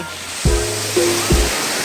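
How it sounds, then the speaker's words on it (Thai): Sea waves wash up a sandy beach at Cha-am into a freshly dug hole, a constant near surf wash with three short thumps and swishes as water surges in. "ขุดหลุมรอน้ำแล้วตอนนี้รอน้ำทะเลมาแล้ว"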